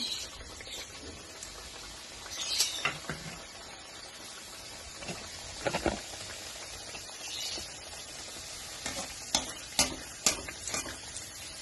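Meat fries in hot oil for the Kerala dish erachi pathiri, making a steady, faint crackling sizzle with scattered pops and occasional stirring noises.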